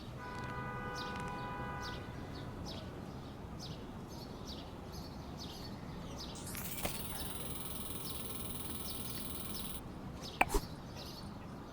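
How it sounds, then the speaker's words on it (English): A bustling city in the morning, with a steady wash of traffic, bird chirps near the start, a long sustained horn-like tone partway through and a sharp knock near the end. "The sound of the bustling city in the morning, a call and response of cars and birds."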